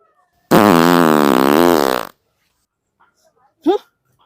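A loud, long fart lasting about a second and a half, rippling with a bubbly rising-and-falling tone, ending abruptly and followed by silence and a brief voice.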